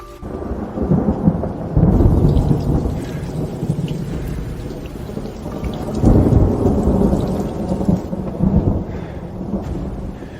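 Heavy rain pours steadily while deep rolls of thunder rumble through, swelling loudly twice over the downpour.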